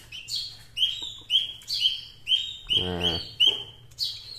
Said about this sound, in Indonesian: ini dia nih anak burungnya